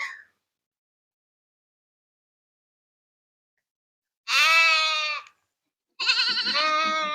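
Goats on a farm in Saudi Arabia give two loud, close, wavering bleats about a second apart after a long silence, with no voices.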